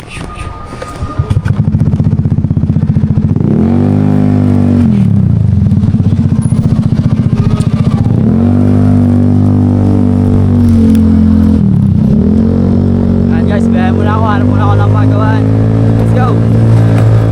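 Motorcycle engine revving and running loudly up close, pitch rising and dipping as the throttle changes, with rattling clatter and some talking under the noise.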